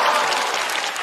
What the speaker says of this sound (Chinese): 掌声再次送给秋瑞